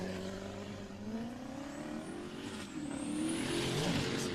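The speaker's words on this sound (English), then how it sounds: "And now we have Craig Barber, E36 BMW 1 UZ Turbo under the hood." An E36 BMW drift car with a turbocharged 1UZ V8 engine, at a British Drift Championship qualifying round at Teesside, revs with rising and falling engine tones from mid-distance, building louder toward the end.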